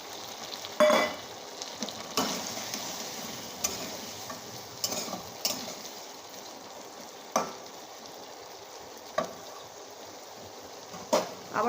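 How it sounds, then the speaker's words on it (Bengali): Fish curry spices frying in a pan in a home kitchen, with water poured in; a steady low sizzle runs throughout, broken by several short sharp clinks and stirring scrapes spaced a second or two apart. "সেটা ধুয়ে একটু জল দিয়ে দেবো"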